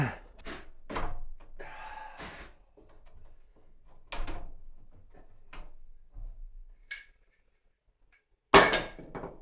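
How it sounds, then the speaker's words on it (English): Several sharp hammer blows drive nails up through the bottom of a wooden stair stringer into wall studs, separated by pauses and quiet handling noises, with one loud final strike. "going to put a couple of nails in from under the bottom of the stringer into some of the studs"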